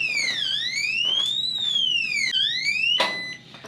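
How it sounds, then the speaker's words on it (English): Kaer gun safe alarm sounding loud and close, a piercing electronic siren sweeping up and down in pitch in repeated whoops, with a harsher burst near the end. "it makes an alarm"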